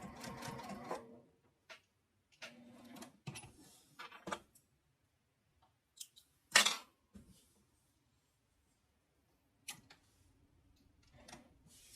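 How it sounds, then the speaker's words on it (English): A sewing machine stitches in the ditch on a quilted zipper case, running in short intermittent bursts separated by quiet pauses, with a sharp click or knock partway through; close and fairly soft. "I'm just doing a stitch in the ditch."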